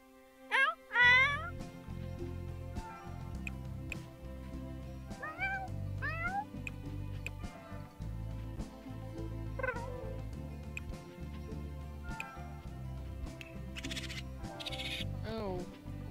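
An old cat in The Sims Pets video game meows repeatedly, with several drawn-out, rising and falling cries standing out over soft, steady game music. A few voices are also heard.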